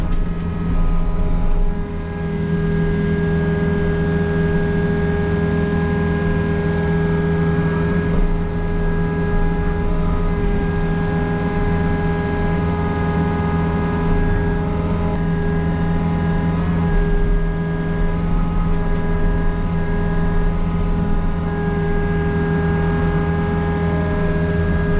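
Steady engine drone of a half-size construction machine grading a new yard, heard from the seat right on top of the motor: loud, constant, close rumble with a droning hum and no pauses or talk.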